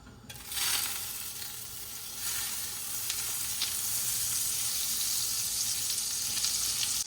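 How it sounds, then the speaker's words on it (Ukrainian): A piece of butter sizzles and crackles in a hot frying pan on the stove, a steady close frying hiss that holds for several seconds with no talking. "Сковороду розігріли, тепер беремо сюди кусочок вершкового масла."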